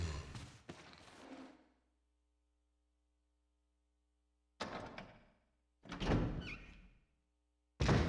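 Doors unlocking and swinging open in the Resident Evil Remake video game, a few separate thunking, sliding bursts with silent gaps between them and a faint steady hum underneath.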